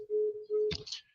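A telephone busy tone plays as two short steady pulses close on a line, followed by a brief click and a sharper burst of noise, all quiet.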